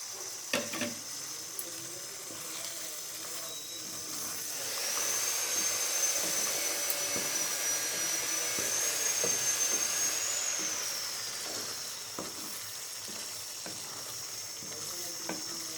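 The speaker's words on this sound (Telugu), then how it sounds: "ఆయిల్ విడుస్తుంది చూడండి కదా. ఇప్పుడు మనము వంకాయలు వేసుకుందామండి." Eggplants dropped into hot spiced oil for a stuffed eggplant curry, giving a steady close sizzle that swells louder for several seconds, then settles back with faint stirring clicks.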